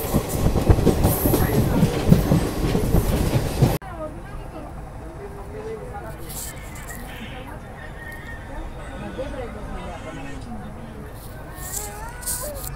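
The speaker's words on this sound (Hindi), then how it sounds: "तो भाई साहब ट्रेन आ गई है वडोदरा रेलवे स्टेशन पर।" A passenger train pulling into Vadodara railway station: loud rumbling and clatter that drops abruptly to quieter rolling rail noise with faint squeals, while people talk over it.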